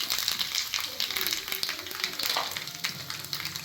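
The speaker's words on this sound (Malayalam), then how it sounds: "നമുക്ക് കായ ഉപ്പേരിയിലേക്കുള്ള കടുക് പൊട്ടിച്ചെടുക്കാം." Mustard seeds splutter and crackle in hot oil for a plantain thoran, a loud, dense spray of sharp pops over a continuous sizzle throughout.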